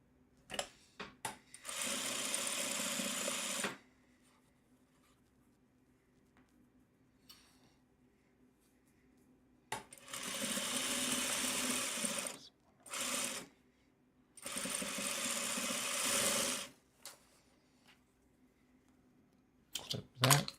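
A sewing machine stitches a quilt block in three separate bursts of rapid needle chatter, each a few seconds long, with quiet pauses and small clicks of handling between them, close and moderately loud.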